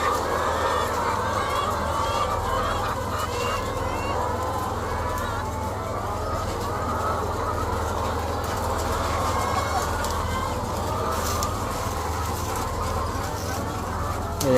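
Layer hens at a farm during feeding time, a dense continuous chorus of clucking and murmuring fowl over a steady low mechanical hum, with no distinct voices.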